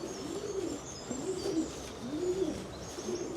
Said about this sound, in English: Now it's full of pigeons.